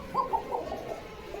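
Pigeons coo softly from inside a box at a pigeon market. Several short, low throaty coos come close together at moderate volume.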